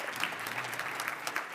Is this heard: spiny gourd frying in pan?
no